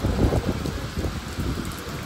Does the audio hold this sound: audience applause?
no